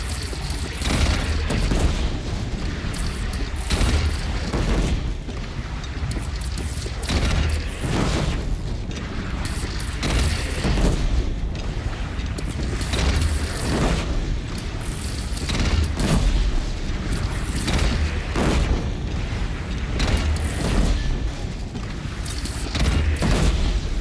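Cannon fire in the video game Horizon Zero Dawn: a dense, loud barrage of booming blasts and gunfire-like bursts rolls on continuously across the whole stretch with no pauses.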